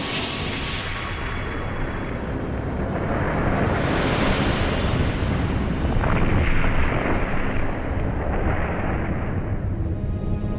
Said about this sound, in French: Une explosion de 100 millions de mégatonnes pulvérise New York.